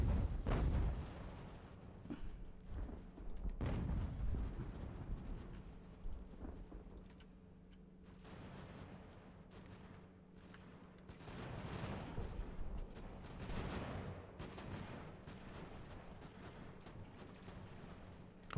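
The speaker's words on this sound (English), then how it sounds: "now he's turning his artillery on me here" Artillery fire in the video game Ultimate General: American Revolution during the Battle for Boston: distant, muffled booms and rumbling volleys rolling in waves over a low battlefield hum, without speech.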